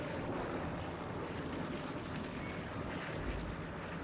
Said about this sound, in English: So that helicopter just lifted off.